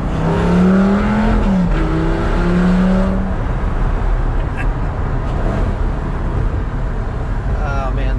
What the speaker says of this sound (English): But first, we're going to get out of second gear.